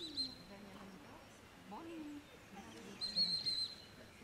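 Brief high-pitched whistle tones sound twice, a short blast at the start and a longer trilling one near the end, with quiet voices talking between them outdoors.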